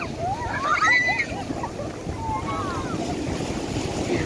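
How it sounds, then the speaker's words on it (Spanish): Ocean waves surging at a beach where people play in the water, a steady broadband wash with wind noise, with distant voices and shouts rising over the surf. "esa ola está grande y se los puede llevar para adentro"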